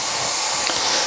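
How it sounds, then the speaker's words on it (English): An espresso machine's steam arm, being purged after steaming oat milk, gives a steady, loud, airy hiss that runs without a break. "Knock the steam arm back on for a moment just to purge."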